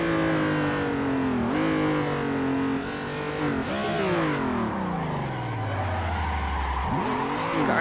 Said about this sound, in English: I feel like we're drifting at a lot higher speed, so we probably should be on maybe grippier tires